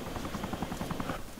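A video-game helicopter hovering, a steady pulsing rotor thump with a constant engine drone, fairly close and continuous, no voices.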